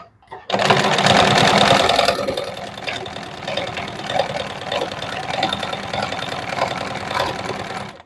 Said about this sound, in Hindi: अब हमें यहाँ पर सिलाई लगाना है, तो नीचे से हम सिलाई लगाना स्टार्ट करेंगे।